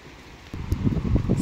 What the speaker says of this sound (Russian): Я так думаю, что ветер все просто перебивает.